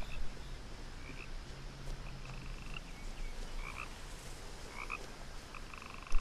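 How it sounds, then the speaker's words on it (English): Frogs croak in the video game What Remains of Edith Finch: a chorus of short, repeated croaks scattered over a dense, hissing night-ambience bed, fairly faint and steady throughout with no talk. "More frogs, my god."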